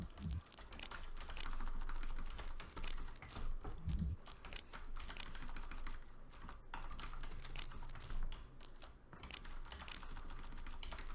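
Rapid, continuous clacking on a computer keyboard while mapmaking in Doom SnapMap, close and loud, with dense irregular keystrokes and a few low thuds.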